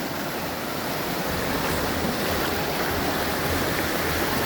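An icy river rushes steadily past nearby, a constant broadband wash of flowing water with no breaks or voices.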